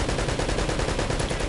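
Gunfire in the video game Uncharted: Drake's Fortune aimed at a barrel, a rapid loud string of shots with a dense, continuous rattling texture.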